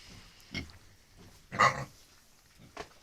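Pigs grunt in short, low bursts, three or four spaced grunts with one louder snort in the middle and quiet pauses between them.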